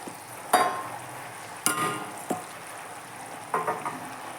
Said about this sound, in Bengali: এখন আমি এইটাকে অল্প সময় সাঁতলাবো।